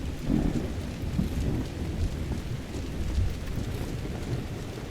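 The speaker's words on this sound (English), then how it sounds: "Man, this storm has been raging all day." A thunderstorm in the video game Skyrim, with heavy rain hissing steadily and low rumbles of thunder rolling through, loud and continuous with no talking.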